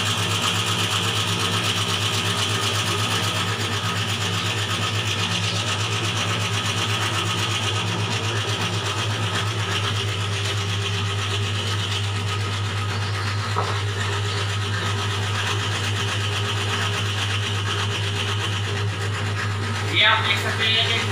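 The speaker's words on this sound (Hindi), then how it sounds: "मैं इसका ग्राइंडर ऑन कर लेता हूँ।" Small grinder grinding homemade washing powder runs with a steady, droning motor hum and gritty rubbing texture throughout, loud and continuous, with faint talk over it.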